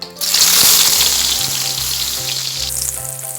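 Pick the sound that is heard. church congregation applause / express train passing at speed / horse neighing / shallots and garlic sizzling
shallots and garlic sizzling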